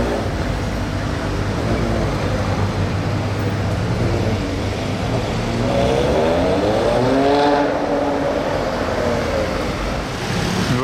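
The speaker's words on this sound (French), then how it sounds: "Une voiture du rallye." Rally car at the Monte-Carlo Rally 2022 passing through town, a steady loud engine roar that swells with rising and falling pitch around the middle as it goes by, over constant street background.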